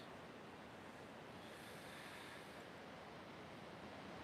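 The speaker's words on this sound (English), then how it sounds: "listen to that ocean" Ocean waves breaking on an oceanfront shore make a steady, broad wash of surf with some wind noise on the microphone, continuous and moderately distant, with no voices.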